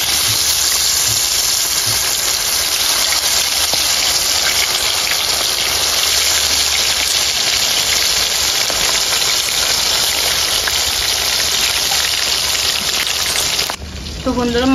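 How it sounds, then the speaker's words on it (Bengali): More poa fish pieces fry in a pan of oil, giving a long, loud, continuous spattering sizzle close by that barely changes until it cuts off abruptly just before the end. "বাকিগুলো ভেজে নেব।"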